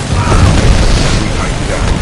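Weapon firing at a locked target in Titanfall 2: a dense, loud continuous roar of mechanical booms and bursts throughout a short stretch.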